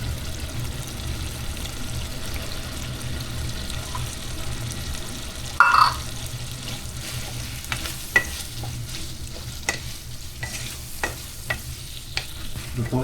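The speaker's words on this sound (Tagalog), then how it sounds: "Lutuin muna natin yung mushroom mga kalakbay." Mushrooms for carbonara cook in a pan with a soft, steady sizzle, broken now and then by light clacks and scrapes of stirring.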